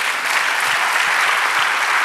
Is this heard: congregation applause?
yes